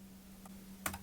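A few quick key presses on a computer keyboard while typing a tag: one light tap, then a slightly louder pair of clicks, all faint over a steady low electrical hum.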